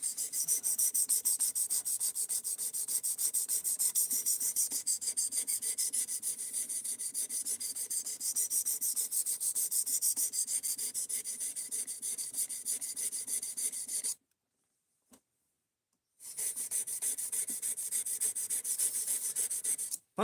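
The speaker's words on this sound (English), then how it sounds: "I am on my 600 grit stone now." A knife scraped steadily across a 600 grit sharpening stone in long continuous rubbing strokes, close and fairly quiet, with a brief pause before the grinding resumes.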